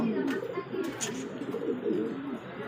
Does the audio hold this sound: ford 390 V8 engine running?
no